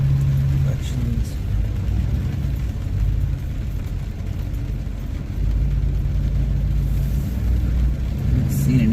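A Duramax pickup truck hauling a customer's fifth-wheel RV drives along, giving a steady, low engine and road rumble from inside the cab that continues throughout with little change.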